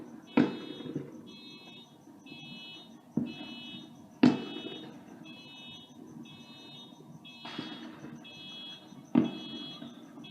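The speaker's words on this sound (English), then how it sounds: "And there we go with the car alarm." Car alarm wailing repeatedly in short rhythmic tones during a 4th of July fireworks display, punctuated by several sharp firework bangs, heard from a distance with faint talk.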